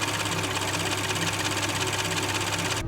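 A Porsche Macan engine runs at a steady idle with a fast, even ticking clatter of injector noise close by, loud and continuous without any talking.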